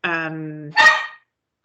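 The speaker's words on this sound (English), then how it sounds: "my dog is wanting attention" A pet dog barking for attention indoors: one whining, drawn-out yelp, then a sharp, close bark, loud and alone in an otherwise quiet room.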